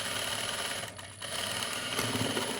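Sewing machine stitching along marked lines on blouse fabric, a fast continuous whirring chatter close by, briefly easing off before running on again, with no talk.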